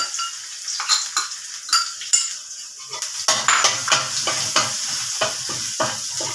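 Chopped garlic fries in a hot pan for a Thai stir-fry of pork neck and long eggplant, giving a steady close sizzle. A spatula scrapes and taps the pan in frequent sharp strokes.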